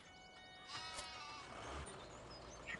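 Sheep in the Farming Simulator 2017 video game let out a couple of wavering bleats at moderate distance, under faint background ambience, with a brief sharper sound near the end.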